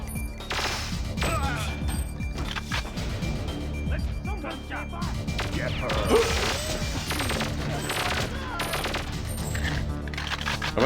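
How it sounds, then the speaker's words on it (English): Futuristic laser-like gunfire in the Nintendo 64 shooter Perfect Dark: dense, rapid bursts of zapping shots and crashing impacts, loud and continuous throughout, with voices talking underneath. "I find it funny that the guns also sound like lasers."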